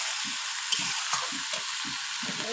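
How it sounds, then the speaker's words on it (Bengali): Steady, even sizzling of fried prawns cooking in hot oil in a pan, with soft rhythmic stirring or scraping thumps underneath. "এই দেখুন চিংড়ি মাছ ভাজাগুলো দিয়ে দিলাম।"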